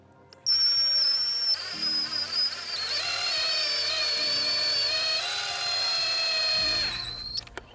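Power drill running during a pantry build, a high whining motor that starts abruptly, holds for about six seconds with slight pitch shifts under load, then stops.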